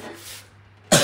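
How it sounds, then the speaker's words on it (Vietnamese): A single sharp, loud cough bursts out close to the microphone at the very end, from someone who has just drunk something cold, after a near-silent moment with a faint steady hum. "Tự nhiên uống lạnh nó ho quá các bạn."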